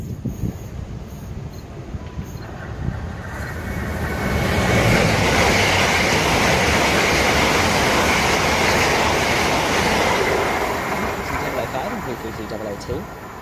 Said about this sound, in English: Working a Heathrow Express service from London Paddington to Heathrow Terminal 5